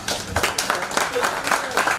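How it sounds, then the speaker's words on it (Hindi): Audience applause at an LIC agents' gathering welcoming a CMD Club member to the stage: dense, steady clapping for about two seconds, with a voice rising over it. "मैं जोरदार तालियों से उनको इनवाइट करूँगा"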